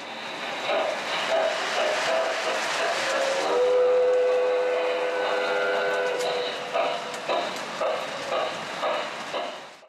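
A Commodore Vanderbilt model toy train runs on its track with a soft rolling hum, while a sustained whistle tone sounds in the middle of the run.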